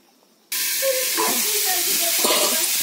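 Salted, turmeric-coated potato and papaya pieces hit hot oil with a sudden loud hiss after a brief quiet moment, then a continuous close sizzle with faint tonal sounds mixed in.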